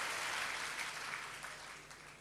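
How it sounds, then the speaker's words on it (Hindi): Audience at a spiritual discourse applauding, a soft, distant wash of many hands clapping steadily and slowly fading, with no talk over it. "ये हुई ना बात, ताली बजाइए इनके।"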